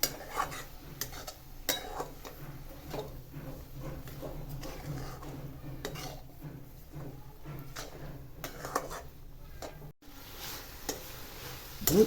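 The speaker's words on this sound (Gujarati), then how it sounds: "મિક્સ કરી હલાવવું." Beetroot halwa being stirred in a pan, with soft scraping and clinking of a spoon against the metal pan in an irregular rhythm over a low background hum, close and fairly quiet.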